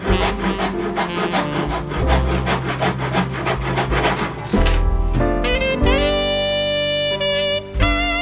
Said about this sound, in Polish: Zaczynamy powoli, a potem już spokojnie tniemy wzdłuż zaznaczonych linii.